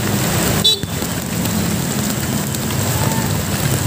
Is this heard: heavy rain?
yes